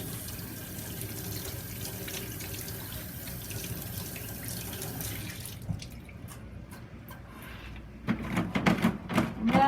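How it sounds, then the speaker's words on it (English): Water from a tap runs steadily while soap is rinsed off hands at a sink, then the flow stops and wet splashing and handling noises follow near the end. "you want to make sure that you rinse all parts of the soap"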